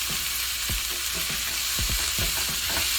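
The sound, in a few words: vegetables being stirred and sizzling in a pot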